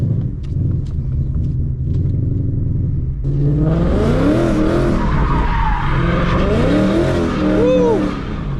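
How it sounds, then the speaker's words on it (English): Ford Mustang Mach 1 sliding, engine rumbling and then revving hard as the tires squeal and skid in long wavering screeches, loud and close, with a voice talking in the background. "First time actually sliding the Mach 1."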